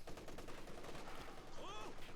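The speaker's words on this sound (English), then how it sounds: "MG34 suppresses the Folks Grenadiers." In a Company of Heroes 2 battle, an MG34 machine gun rattles out a fast, even burst of rounds, quiet and a little distant, mixed with other battle noise.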